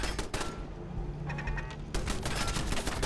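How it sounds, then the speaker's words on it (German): Bursts of ambush gunfire in the game Fallout 4, a rapid, moderately distant volley of sharp shots, a brief lull with a few scattered cracks, then another dense burst of fire. "Schüsse aus dem Hinterhalt"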